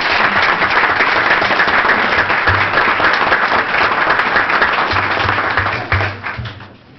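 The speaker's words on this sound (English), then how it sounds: "a round of applause, please" A council meeting crowd gives a steady round of applause, dense close clapping holding for several seconds before tapering off toward the end.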